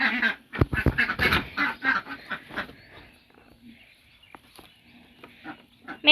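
Ducks quack in a quick run of loud, nasal calls, then scattered softer quacks follow amid quieter farmyard background.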